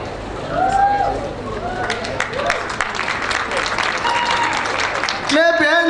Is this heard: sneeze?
no